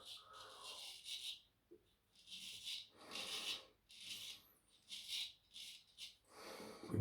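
A straight razor, a JJ Shorty used with Kaizen soap, scrapes through lathered hair in short rasping strokes, about six distinct passes separated by brief pauses, close and quiet with no talk.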